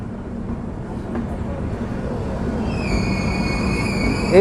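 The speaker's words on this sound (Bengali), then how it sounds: "দু নম্বর প্ল্যাটফর্মে দেখতে পাচ্ছেন প্রবেশ করলো হামসাফার উদ্বোধনী স্পেশাল ট্রেন" The inaugural Humsafar special train rolls into platform two at Ranaghat Junction, a low steady rumble building gradually, joined near the end by high, sustained wheel squeal or horn tones.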